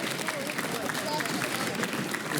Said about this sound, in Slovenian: Lahko zaploskamo, seveda.